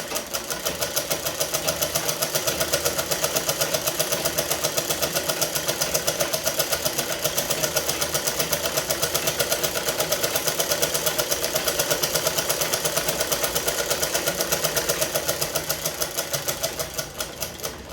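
A sewing machine stitching a pillow runs steadily and close by, a continuous fast mechanical whir and ticking that holds level for the whole stretch with no pauses or talk.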